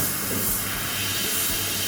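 An airbrush sprays Tamiya acrylic paint in a continuous close steady hiss of air, loud and unbroken with no talking.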